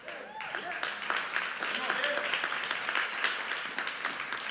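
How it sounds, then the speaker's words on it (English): Moderate, polite applause from a church audience during a sermon, clapping that rises quickly and holds fairly even, with some voices mixed in underneath. "Thank you for that golf applause on that one"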